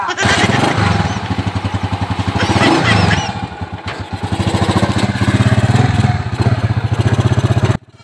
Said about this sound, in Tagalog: Parang ayaw po umandar ang ating motor.